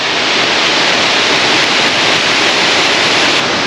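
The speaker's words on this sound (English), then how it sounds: "there's another waterfall" Tumalo Falls pours steadily in Oregon forest, a loud, close, unbroken rushing roar of falling water filling the whole stretch with no pauses.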